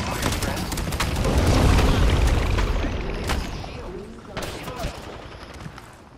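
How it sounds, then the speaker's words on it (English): Rapid gunfire and heavy booms hit the player during an Apex Legends match, dense and loud at first and then tapering into scattered shots and impacts. "I am taking fire, friends."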